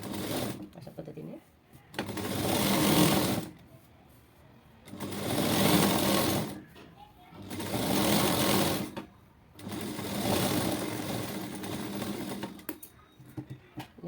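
A sewing machine topstitching a blouse runs in four separate bursts of rapid stitching, each a few seconds long, with quiet pauses between and a voice talking briefly.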